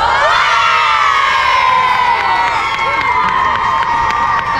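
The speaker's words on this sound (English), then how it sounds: "Give a big cheer." Children cheer and shout together after lifting a cup at a school match between GS Teaghlaigh Naofa and Strawberry Hill, a loud, sustained crowd of young voices whooping steadily throughout.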